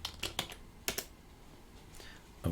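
Keys on a computer keyboard being typed in short clustered bursts of crisp clicks, close and fairly quiet, with pauses between the runs.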